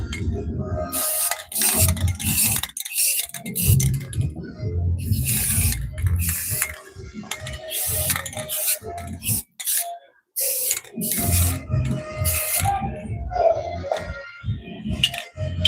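Aerosol spray paint hisses in short repeated bursts as a pair of Crocs shoes is coated, separated by brief pauses and small clicks and rattles of the can.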